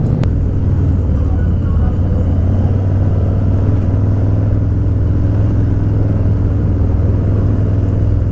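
Night street ambience in Times Square, New York City, with a steady low rumble of car engines and passing traffic, fairly loud and continuous, with no voices standing out.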